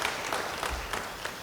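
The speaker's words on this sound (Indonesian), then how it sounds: "Beri tepuk tangan bagi dia." A church congregation applauds during a sermon: steady, moderately soft clapping from many hands in a reverberant hall, lasting a short moment with no speech over it.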